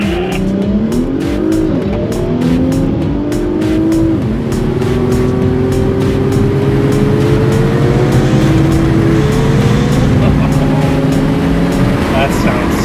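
Cars launching in a drag race, a Ferrari 458 among them, engines roaring as they rise through the gears with repeated pitch climbs and shifts, loud and continuous with a faint tire squeal.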